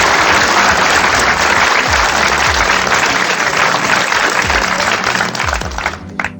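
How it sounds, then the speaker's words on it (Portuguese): Loud, dense applause from a church congregation fills the space without a break and thins slightly toward the end. "E eu quero desejar uma salva de palmas fortíssima para Deus."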